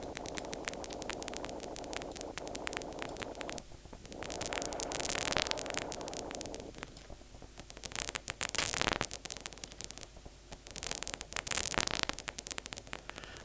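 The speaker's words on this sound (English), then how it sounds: "it sounds like vinyl cracking, really, doesn't it?" Synthesized paper crumpling made with the Vital VST synth: dense crackling static bursts, like vinyl crackle, that swell and drop in irregular loud patches with no voices.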